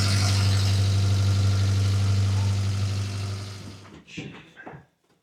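A barn-find Jeep CJ-5, parked for decades, idles with a steady low rumble for about three seconds, then the engine cuts out, leaving brief scattered knocks and handling noises before silence.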